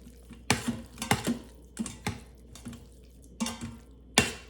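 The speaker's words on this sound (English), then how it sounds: "still stirring in." A spoon knocks and scrapes against a pot while spices (salt, pepper, paprika) are stirred into a ground beef cheeseburger soup, with a few sharp, irregular clinks spaced apart and a quiet room between them.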